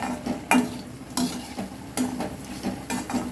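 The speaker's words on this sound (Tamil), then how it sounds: "இந்த தேங்காய் ஒரே ஒரு கீத்து மட்டும் நல்லா கலரி விடுங்க" Coconut pieces being roasted in a pan for guava chutney, with repeated scraping stirs every half second or so over a soft, steady sizzle, close and clear.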